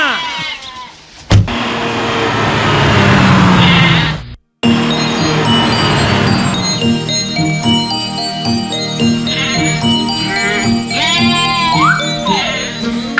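A little goat bleats in short, wavering cries within an animated Hindi children's song, mixed with ringing bells and bright cartoon music that briefly cuts out before resuming.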